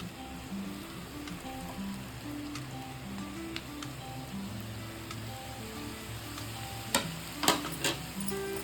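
Steady sizzling from a hot pan as chicken noodles are stir-fried, with scraping stir strokes throughout, a few sharper clatters near the end; no voices.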